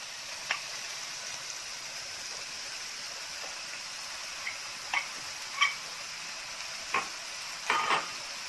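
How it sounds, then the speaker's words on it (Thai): Minced pork stir-fries in a pan for a fresh tamarind chili paste: a steady soft sizzle runs throughout, broken by a few light, sparse spatula taps near the end, close by and with no voices. "เราก็จะใส่หมูบดเลยค่ะ ผัดจนกว่าหมูบดจะสุกนะคะ"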